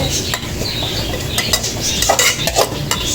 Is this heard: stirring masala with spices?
yes